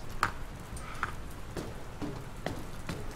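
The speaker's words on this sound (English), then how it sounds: "I don't think it's supposed to still be raining" Rain falls steadily in the video game Dr. Langeskov, The Tiger, and The Terribly Cursed Emerald, a faint continuous patter with scattered louder drips landing on surfaces and no voices over it.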